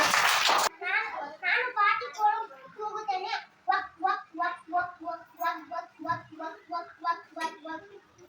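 A short burst of children's clapping opens, then quickly gives way to a steady run of rhythmic chanting from a group of kids' voices.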